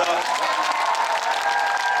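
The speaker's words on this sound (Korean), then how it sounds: "다시 한번 새 배우에게 뜨거운 박수 보주시기 바랍니다" Dense, sustained applause from a large theatre audience at a musical festival concert, steady and even for the whole stretch with no pause.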